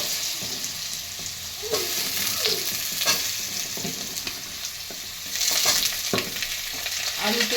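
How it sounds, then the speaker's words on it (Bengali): Potatoes frying with panch phoron in a pan: constant close sizzling broken by repeated scraping stirs of a spatula at an uneven pace, louder toward the end. "আলুটা একটু ভেজে নেবো"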